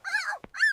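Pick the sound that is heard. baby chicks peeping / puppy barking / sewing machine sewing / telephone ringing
puppy barking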